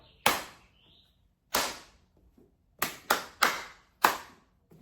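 Sharp hand claps ring out alone in a simple 4/4 rhythm: two spaced claps, then a quicker run of four with a gap before the last.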